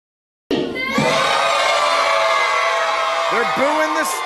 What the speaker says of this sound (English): They're booing the staff.